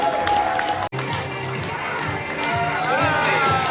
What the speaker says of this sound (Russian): Давайте поприветствуем их бурными овациями и пригласим